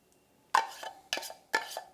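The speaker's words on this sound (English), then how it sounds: "Stir it together with your trusty wooden spoon" Wooden spoon stirring a thick rum ball mixture of crushed biscuits, coconut, cocoa and sweetened condensed milk in a bowl: three distinct scraping strokes, each a sharp knock then a soft drag, close and alone.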